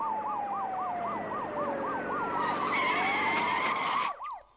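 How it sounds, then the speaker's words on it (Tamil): A wailing police jeep siren cycles rapidly up and down, loud and close, alongside a steady tone, then cuts off abruptly near the end. "நம்ம வண்டிக்கு முன்னால போற போலீஸ் ஜீப்ல இருந்து வர்ற சத்தம் தான்"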